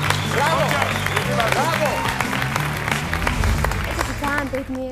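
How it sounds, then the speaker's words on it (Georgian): Georgian comedy show studio audience applauding and cheering, a dense steady roar of clapping throughout with voices calling out over it. "აპლოდისმენტები გავაცილოთ და გამარჯობა"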